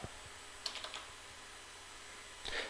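Keys struck on a computer keyboard while configuring an F5 Networks BIG-IP Virtual Edition system: a few faint, sharp clicks early on and a brief key press near the end, set against quiet room hiss.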